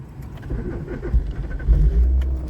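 A manual car engine cranks and turns over up close, settling into a low, rumbling idle that swells louder toward the end.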